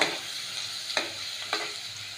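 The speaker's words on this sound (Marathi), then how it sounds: "लसूण हे थोडंसं तेलामध्ये परतून घेऊया" Crushed garlic sautéing in hot oil for an Agri-Koli style oyster masala, a steady soft sizzle with two brief stirring scrapes, close and alone with no talk.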